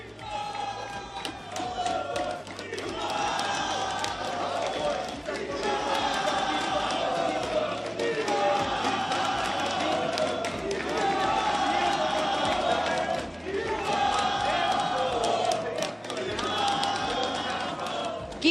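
Crowd at an eLibertadores esports match in the CONMEBOL 2025 event, with a steady roar of fans and scattered shouts under a continuous bed of chatter, loud and sustained throughout.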